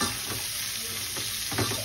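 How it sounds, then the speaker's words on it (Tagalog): Mixed vegetables and pork cubes sizzle in a hot pan while being stirred, a steady close frying hiss with soft scraping strokes throughout. "ilagay na natin tong ating veggies mga mahal ko. At atin lang inimix. Mix together lang po."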